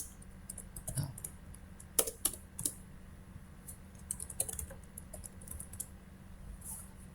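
Computer keyboard typing for a Linux command-line entry, scattered clicky keystrokes in short irregular bursts over a low steady hum, fairly quiet and close, with no talking.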